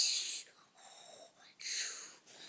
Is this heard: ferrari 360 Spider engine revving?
no